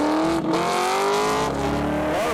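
Nissan 240 fitted with an LS V8 engine cornering hard on a race track, its engine note sweeping up and down through the turn with faint tire squeal, loud and close throughout.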